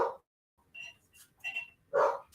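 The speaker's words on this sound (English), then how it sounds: "my little doggy likes to say hello" A small pet dog gives a few short, high yips and barks indoors, spaced apart with quiet gaps between them.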